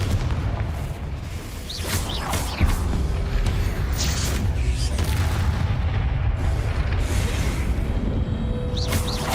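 A series of Confringo blasting-spell explosions in Hogwarts Legacy, each a heavy boom. The booms follow one another over a constant low rumble of combat, with a sharp spell whoosh between some of them.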